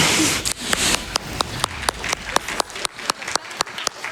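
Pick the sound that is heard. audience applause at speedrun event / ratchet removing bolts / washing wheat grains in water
audience applause at speedrun event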